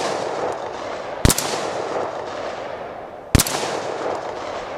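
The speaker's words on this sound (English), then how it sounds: "here's the Bushmaster, and again, we're firing Monarch 55 grain" Two sharp rifle shots from a Bushmaster AR-15 loaded with Monarch 55 grain rounds, spaced about two seconds apart, each a loud crack with a short echoing tail over steady outdoor background noise.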